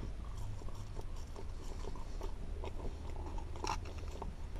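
Close-up crunching and chewing of Dairy Queen fries, steady wet bites and mastication running throughout with a low background hum and no talking.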